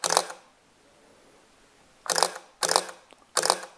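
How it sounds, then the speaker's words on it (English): A Canon 5D camera with a repaired mirror fires its shutter four times, each a crisp, close mechanical clack: one, then a pause, then three more in quick succession. "now I'm gonna fire the shutter"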